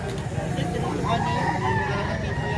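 A nearly one-year-old rooster crows in a long drawn-out call, heard over a busy outdoor chicken market background in Padre Garcia, Batangas, with some murmuring voices.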